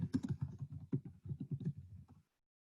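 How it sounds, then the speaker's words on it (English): Quick, even typing on a computer keyboard while entering an organization name into a grant registration form: a close run of soft clicks lasting about two seconds, then silence, with no talk. "Go ahead and type in the organization name"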